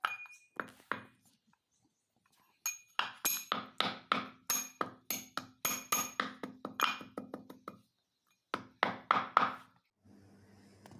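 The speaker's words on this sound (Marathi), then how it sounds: "हा अर्धा किलो गूळ आहे आणि मी याला आता बारीक करून घेत आहे" Half a kilo of jaggery being crushed into small pieces, heard as rapid, sharp, close knocks in fast bursts with a few short pauses, alone with no talk.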